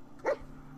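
A single short dog bark in the game Fallout 4, a quick close yip over a quiet background hum.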